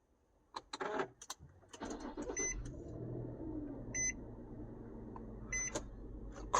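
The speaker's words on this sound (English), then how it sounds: "Car starts." A 2009 Infiniti FX35 with push-to-start ignition, preceded by a few clicks and a brief cranking burst, then settling into a steady low engine idle with occasional soft chime beeps.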